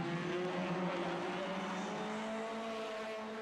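Peugeot 206 race cars at Nogaro circuit roar in a sustained, dense engine drone with steady tonal whine, several cars blending together at close range.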